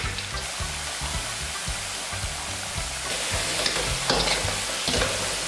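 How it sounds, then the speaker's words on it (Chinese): Taro pieces frying in oil heated to medium temperature in a wok, a steady dense sizzle with repeated low scraping knocks as the pieces are stirred, close and fairly loud throughout. "起锅烧油， 油温五成热下芋头，芋头先过油比较香一点。"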